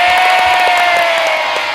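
Studio audience on the Indonesian game show Family 100 claps and cheers loudly, with whoops and shouts over a dense, steady wall of applause that holds for the whole short moment.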